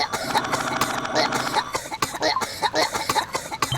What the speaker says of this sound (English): Are they all ill? Are they all coughing?